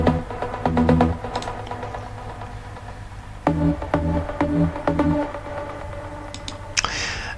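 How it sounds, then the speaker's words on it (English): Detuned trance pluck synth from Spire with delay and reverb, playing a quick rhythmic melodic pattern at moderate loudness, with echoing tails filling the gaps between the short notes. "It's just a simple detuned trancey sound with some delay and reverb."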